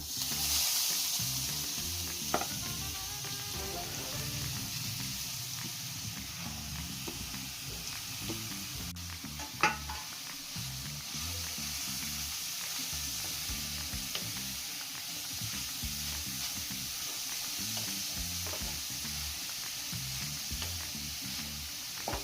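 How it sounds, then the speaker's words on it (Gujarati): Grated carrot fries in ghee for carrot halwa with a continuous close sizzle, broken by soft stirring scrapes and an occasional faint clink of the spoon. "હવે આપણે તેમાં આ ગાજરનું છીણ ઉમેરી દઈશું."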